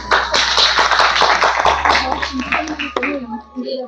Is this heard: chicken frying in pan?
no